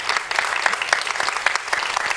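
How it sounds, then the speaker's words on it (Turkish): Steady applause from a crowd, dense clapping throughout with no voices standing out, moderately loud and even. "çok alkış, büyük bir alkış gönderelim istiyorum"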